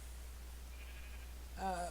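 A single sheep bleat from Minecraft sounds near the end, short and clear, after a stretch of quiet with only a faint low hum underneath.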